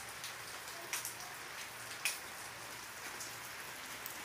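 Heavy rain falls outside a garage, a dense, even patter with a few sharper drips standing out, heard alone at moderate distance.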